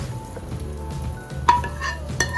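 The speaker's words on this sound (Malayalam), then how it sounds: "അപ്പം ഞാൻ ഇതിലേക്ക് കടുക് വറുത്ത് വെച്ചത് ഇടുകയാണ്" Hot oil sizzles and crackles steadily, with a sharper spatter burst midway as fried mustard seed tempering is tipped into a mango curry, plus faint utensil clinks.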